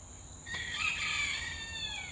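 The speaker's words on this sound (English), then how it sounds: "They're like wild chickens around the cabin here now." Free-ranging chickens with a rooster or two wander around a cabin, and a single short crow or call rises over faint background crickets, heard clearly with no talk.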